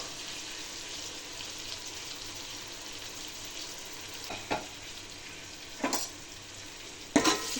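Coriander and mint are stirred into a frying paneer biryani mixture, giving a steady close sizzle. A few sharp scraping knocks from the spoon break through, and no one talks.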